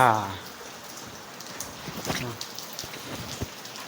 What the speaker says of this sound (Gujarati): વરસાદ પણ ચાલુ છે